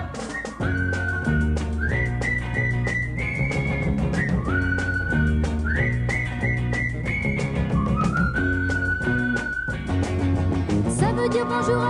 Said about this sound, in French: on lui siffle un petit air qu'il connaît plus ou moins bien pour l'appeler